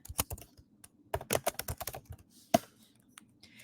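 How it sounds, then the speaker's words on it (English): Fingers typing on a computer keyboard nearby, quick bursts of clicking keystrokes separated by short pauses, with one sharper key strike near the end. "when I go to Google and I type in Zen Master"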